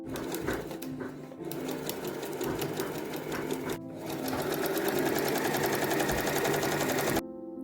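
Sewing machine stitching a magnetic door screen for a Renault Master campervan, a steady close rapid whir of needle strokes running nearly continuously, with a brief pause and a louder stretch before stopping.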